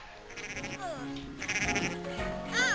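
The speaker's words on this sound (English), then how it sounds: "See if I can catch any of these sheep." Sheep bleating in the Cool Herders Game Boy Advance game, several short electronic bleats with rising, chirpy pitch, spread across the clip over a looping chiptune music backdrop.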